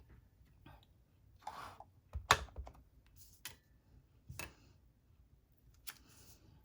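A handheld paper craft punch cuts a leaf shape from stamped paper: sharp clicks and a crisp snap among quieter shuffling of paper, close and alone.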